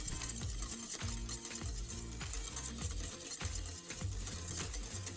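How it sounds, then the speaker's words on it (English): Instant polenta whisked into boiling milk in a pot, a steady rhythmic scraping and swishing of the whisk, fairly quiet and close, with no voices. "This is 1 cup of instant polenta, which is cornmeal. Start whisking."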